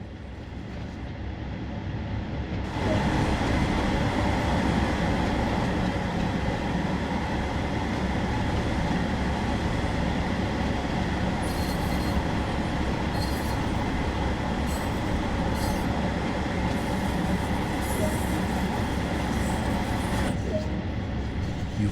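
Two-car Regional Railways train from Train Sim World 2 on the West Cornwall Local route, a steady rumbling run with rolling wheel noise and faint high squeals heard from on board, continuous throughout.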